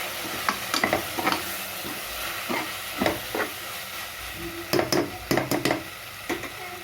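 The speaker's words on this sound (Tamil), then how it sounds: "பிரியாணி மசாலா வந்து நான் நாலு கரண்டி போட்டிருக்கேன் நல்லா வதக்கி வச்சுக்கோங்க" Biryani masala fries in a pan for chicken biryani, a soft continuous sizzle broken by repeated scraping stirs of a spoon against the pan, close and without talk.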